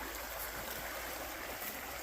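Clear creek water flows steadily near wetland and small islands, a constant broadband rushing and trickling wash, close and even, with no voices.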